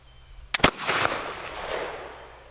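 A Dikar .45 caliber flintlock pistol fires once: a sharp, loud crack with a quick double snap of pan flash and main charge, followed by a short rumbling echo that fades over the next second or so.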